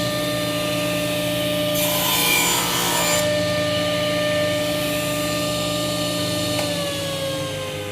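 A Craftsman Evolv 15 amp 10-inch table saw runs with a steady, loud motor whine and a brief, denser burst of cutting noise as it cross-cuts a piece of wood, then keeps spinning after the cut.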